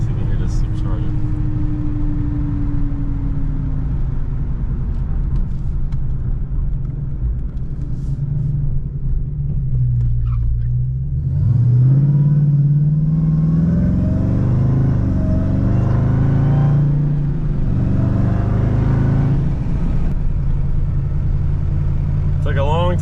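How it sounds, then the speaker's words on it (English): A Dodge Hellcat's supercharged engine rumbles low and steady from inside the car, swelling into a rising whine and growl partway through as it accelerates, with a person talking over it. "So I can turn this window down a little so you can hear this supercharger."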